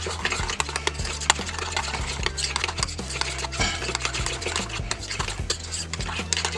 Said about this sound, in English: we got to stir this up good so we get everything incorporated